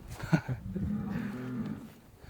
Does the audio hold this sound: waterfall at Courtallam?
no